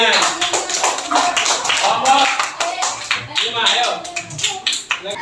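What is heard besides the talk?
applause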